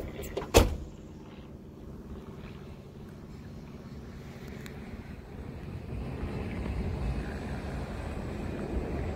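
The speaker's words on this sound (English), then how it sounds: "Shut my door." A single solid car door thump near the start, followed by the low rumble of an idling engine that grows slightly louder.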